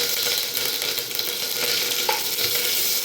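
Whole spices such as bay leaves, cardamom, cloves and cinnamon sizzle in hot oil with curry leaves for veg pulao, a dense, steady crackling hiss heard close, with a faint stir near the end and no speech.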